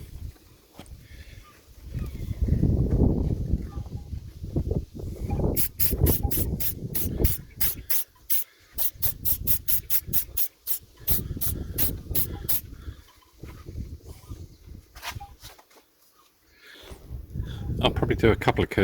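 Rapid bursts of aerosol clear coat hiss in short repeated pulses, close by, as a coat goes onto Ford Focus ST headlamp washer covers, with talking in between the spray passes.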